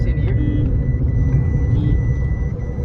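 A Mahindra XUV300 with its turbocharger drives along with a loud, steady low rumble of engine and road noise from inside the cabin, and a faint high tone runs through it.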